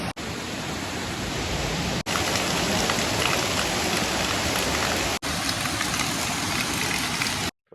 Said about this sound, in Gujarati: વરસાદ પડી ગયો જોરદાર